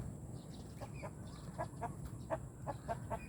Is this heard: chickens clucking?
yes